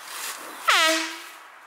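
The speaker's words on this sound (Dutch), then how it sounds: "je hebt een toeter bij je?" A toy horn called the Echo Maker 3000 gives one loud, sudden honk with a bright, brassy tone. It fades out over about a second, outdoors in a forest setting.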